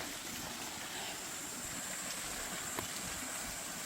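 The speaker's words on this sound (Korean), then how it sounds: "아, 시원한 물소리." Cool flowing water on a mountain trail, a steady soft rushing wash heard from a little distance, continuous and unbroken, with no talk.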